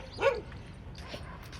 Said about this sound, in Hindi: भौंक रहा है मुझे देख के।